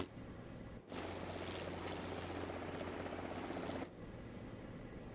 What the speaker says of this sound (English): So a helicopter to our 3 o'clock